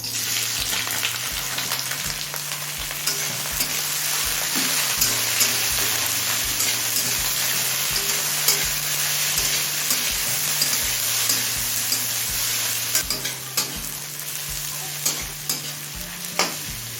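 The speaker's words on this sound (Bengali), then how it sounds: "এবার দিয়ে দিচ্ছি তিনটে মাঝারি সাইজের কুচুনো পেঁয়াজ" Chopped onions, three medium ones, fry in oil with whole spices tempered until red, for chicken ghugni, giving a dense, continuous close sizzle with a regular soft knock of stirring roughly every second and no voices.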